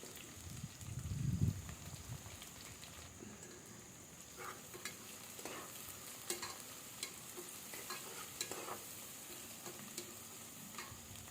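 Ingredients for mutton pulao fry softly in a pan, a faint, low sizzle broken by a dull thump early on and scattered light stirring and scraping sounds.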